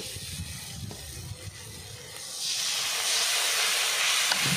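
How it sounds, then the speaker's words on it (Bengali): Water poured into masala frying in a pan for a Bengali egg curry, heard as a low simmering bubble that bursts into a loud, steady, close sizzling hiss halfway through, with no talking. "এবার অল্প পরিমাণ জল দিয়ে মশলাটাকে ভালো করে কষে নিতে হবে"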